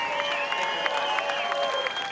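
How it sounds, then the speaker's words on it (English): A crowd applauds Eddie Fernandes, the champion at the 2018 World Long Drive Championship, with brief, dense clapping under steady tonal background sound, all held at an even level through about two seconds. "Ladies and gentlemen, one more round of applause for Eddie Fernandes."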